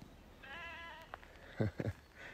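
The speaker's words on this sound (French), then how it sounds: "Ben oui, elles bêlent." Ewes bleat outdoors in grassy countryside, one wavering call followed by a few shorter, quieter bleats, fairly faint and with no talking.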